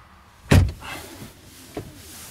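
A single solid thump of a 2019 Mercedes-AMG E53 Coupé door shutting, followed by a softer muffled knock in a quiet interior.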